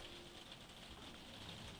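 Faint, steady rain patters somewhere in the background, an even hiss with no voices over it.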